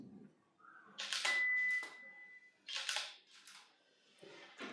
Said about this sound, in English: all I have to do is just press the shutter button to take the shot. And you can see that this strobe will fire on me